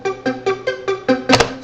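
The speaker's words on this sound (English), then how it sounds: "So we go over to the Dune synthesizer again." A Dune synthesizer plays a quick series of about seven punchy, plucked notes at a regular pulse, ending in a brighter, harsher hit, loud and close with nothing else heard.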